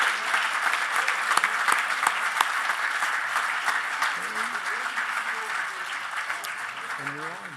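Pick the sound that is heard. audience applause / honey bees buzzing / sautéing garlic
audience applause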